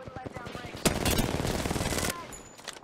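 Automatic gunfire in Apex Legends rattles in a dense burst lasting about a second after a few lighter shots, fairly close, with a player's voice over it.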